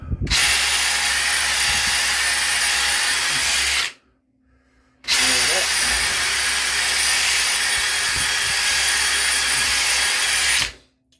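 A power drill driving a scrub brush adapter scrubs bathroom tile in two loud, close bursts of steady high whine and bristle friction, separated by a second-long pause, with no talk.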